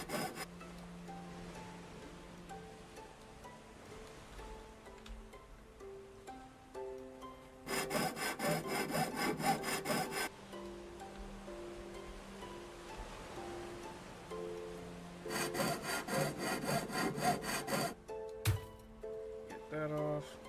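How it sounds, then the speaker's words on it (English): A hacksaw in the video game Ship Graveyard Simulator cuts in two bursts of rapid, rasping metal strokes, each lasting a few seconds, over quiet tonal background music. "Switch to the hacksaw."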